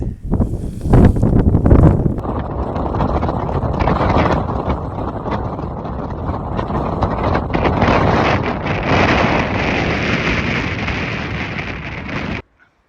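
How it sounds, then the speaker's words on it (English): Strong wind on the Pacific Crest Trail roars and buffets the microphone continuously for several seconds, loud and close, then cuts off abruptly. "So a little bit windy, a little bit chilly, but dry"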